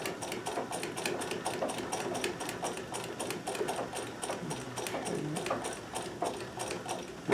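A Necchi BU Nova sewing machine stitches shirt cuffs with a fast, steady mechanical chatter of rapid needle strokes, close and continuous, pausing briefly near the end.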